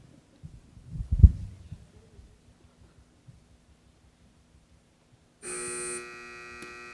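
A sustained electronic quiz buzzer sounds near the end of a high school quiz match, loud and steady for about a second and a half, after a low thump and murmur.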